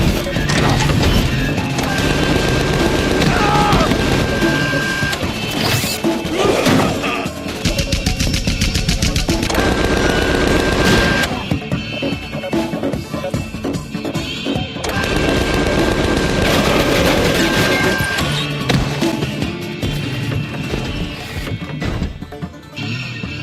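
Gunfire in the video game Tales from the Borderlands, loud and dense, with rapid bursts, crashes and booms layered over game music and effects almost continuously.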